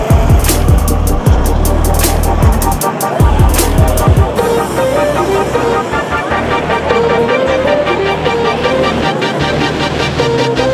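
Classic cars moving through a busy annual car event in Angoulême, with a loud, dense, continuous roar of engines and crowd din close by, steady throughout.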